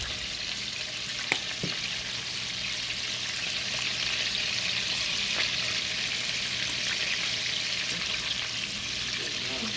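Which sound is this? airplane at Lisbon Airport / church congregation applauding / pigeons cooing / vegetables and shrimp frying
vegetables and shrimp frying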